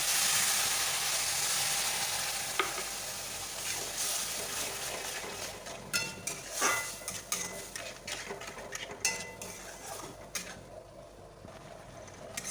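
Milk and sugar cook with semolina in a pan: a continuous bubbling sizzle while a utensil scrapes and clinks against the metal in irregular strokes, the sizzle fading toward the end.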